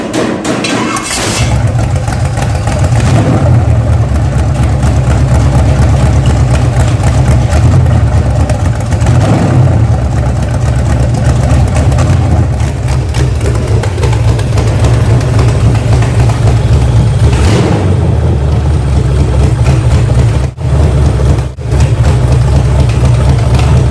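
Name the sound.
old V8 car engine idling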